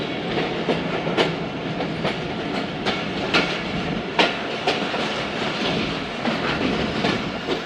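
Jaffar Express passenger train running from Peshawar to Lahore, a steady loud rolling rumble with repeated clickety-clack wheel beats over rail joints and occasional sharper clanks, continuous with no voices.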